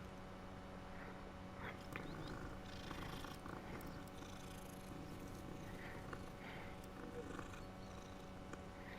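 A cat purrs softly and steadily in Hogwarts Legacy, the low rumble running alongside ambient game sounds and faint clopping.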